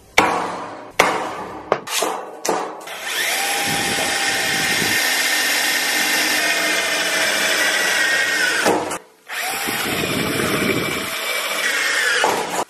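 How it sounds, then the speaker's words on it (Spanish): A power drill boring holes into small wooden tray sides, several short taps and knocks, then a long steady whining run, a brief stop and a second drilling run, loud and close. "ya tenemos los dos agujeros hechos en cada una de las parecitas"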